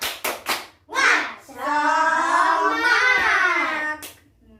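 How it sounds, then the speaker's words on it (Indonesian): Children in a second-grade classroom do a spirit clap, with a few quick sharp claps followed by a long chorus of young voices shouting together close by. "Tepuk semangat."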